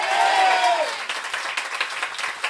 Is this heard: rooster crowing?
no